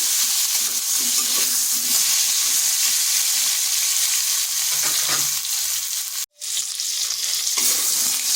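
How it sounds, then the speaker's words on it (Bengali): Pointed gourd (potol) pieces frying in oil make a loud, steady close-up sizzle that holds throughout, briefly cut off near the end before resuming. "পটলগুলোকে ভেজে নেব কিন্তু নুনটা এখন দেবো না"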